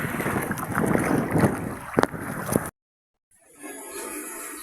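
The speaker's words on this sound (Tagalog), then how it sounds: "Malakas ang hangin." Strong wind buffets the microphone with a heavy, roaring rush, cut off by a brief silence before the blustery noise returns.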